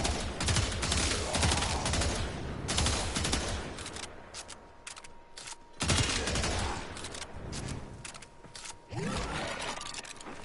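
Rapid automatic gunfire from a video game weapon in a PS4 shooter, dense bursts of fire rattling on and off, briefly pausing near the middle before resuming loud and close.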